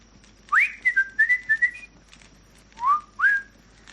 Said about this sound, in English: Give a little whistle, turn him round.